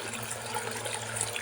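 Sand dollars rinsed under running tap water, a steady close splashing and trickling flow continuing without break, no voices.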